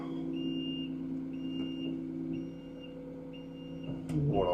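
A tracked vehicle backs onto a trailer, its engine rumbling steadily under a string of evenly spaced reversing beeps, with a louder clank near the end.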